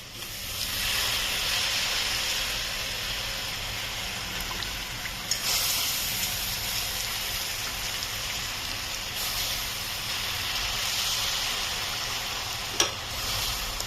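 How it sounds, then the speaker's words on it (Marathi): Soaked rice is tipped into a hot spiced pan and sizzles with a steady, hissing, steamy crackle. The sound swells in a few places and a single sharp clink comes near the end. "आता हा जो भिजवलेला तांदूळ आहे तो डायरेक्टली मी याच्यामध्ये टाकते"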